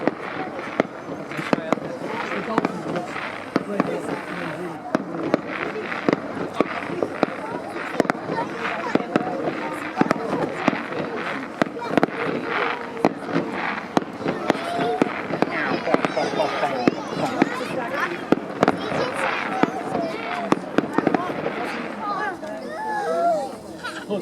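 Bonfire night fireworks crackle and pop in a steady stream of bursts outdoors, with voices, chatter and children's shouts in the crowd around them.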